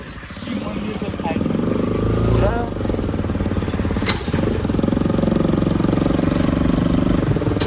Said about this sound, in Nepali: भोइसभन्दा ठुलो यो बाइकको साउन्ड छ